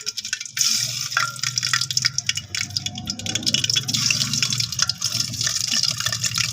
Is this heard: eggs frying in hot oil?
yes